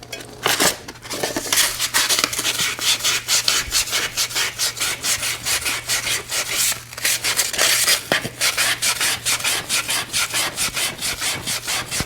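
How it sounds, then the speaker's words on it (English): Close, vigorous back-and-forth sandpaper scrubbing on parts of a Honda HS928 snowblower auger during a bearing replacement, a rhythmic rasping stroke pattern that continues throughout. "I will take a little sandpaper."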